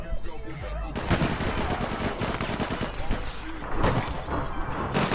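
Rapid gunfire from the online shooter game APB Reloaded crackles in dense bursts through most of the stretch, loud and close, with a player talking excitedly over it.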